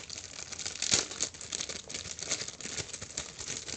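Plastic packaging crinkles and rustles continuously as a squishy toy shaped like a melon pan from a fluffy bakery line is unwrapped, close and fairly quiet with one louder crackle early on.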